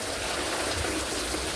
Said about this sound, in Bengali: ঝড় বৃষ্টি তো, ঝড় যেদিকে সেদিকে উল্টোপাল্টা বৃষ্টি হচ্ছে।